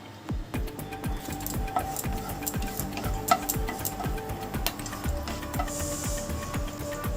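Whole cardamom, cinnamon and cloves spit and crackle in hot white oil in a wok, a steady busy sizzle with rapid ticking pops running throughout at close range.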